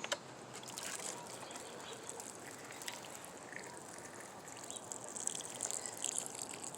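Water poured over freshly planted garlic cloves in soil inside an outdoor fire pit, a steady close splashing trickle running throughout with faint birds in the background.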